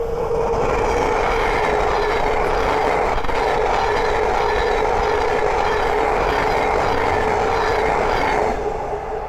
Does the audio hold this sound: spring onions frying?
no